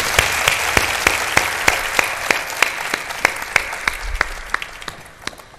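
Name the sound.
audience applause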